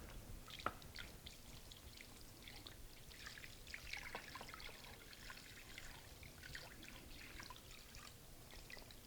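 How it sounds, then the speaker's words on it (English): Salt brine is poured over kingfish, a faint steady trickle and splash of liquid that runs continuously with small drips throughout. "Now I'm going to pour this over the fish"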